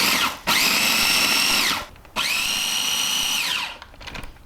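An electric food chopper blitzes scotch bonnet chilies in two loud whirring bursts, each spinning up quickly, holding a steady high whine, then winding down, followed by faint rattling of the container.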